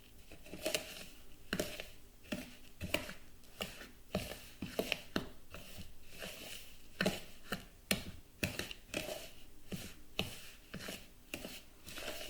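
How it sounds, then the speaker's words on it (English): A spoon stirring fruit crumble mixture in a bowl, giving irregular scraping clicks and soft crumbly rustles in uneven bursts, close and fairly quiet, with no talking. "you can mix it all together using a spoon"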